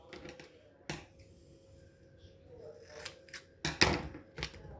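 Scissors snipping tape while an elastic-powered paper rocket is built: a few sharp, separate clicks and snips spread across the moment, with a cluster of louder cuts near the end over quiet room noise.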